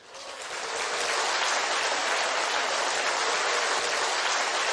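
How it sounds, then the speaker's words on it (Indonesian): An audience swells into a dense, continuous wash of applause for a leader named President Park, rising over the first second and then holding steady and loud. "Anda betul-betul harus memberi tepuk tangan."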